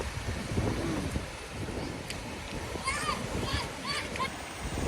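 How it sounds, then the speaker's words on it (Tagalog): Rough surf churned by strong typhoon wind on the Siargao coast during Typhoon Bebinca: a continuous low roar of waves with splashing bursts, wind rushing over the microphone, and faint background voices. "Mahangin, malakas ang hangin kaya maalon."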